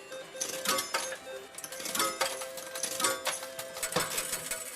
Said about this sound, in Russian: Вы слышите звук монет